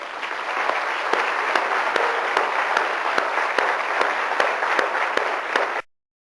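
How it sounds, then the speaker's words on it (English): Audience applause for an organisation's senior leadership at a speaking event, a dense and steady burst of clapping with sharp rhythmic accents that runs unbroken for nearly six seconds before cutting off abruptly. "can we just give our senior leadership of this wonderful organization a round of applause"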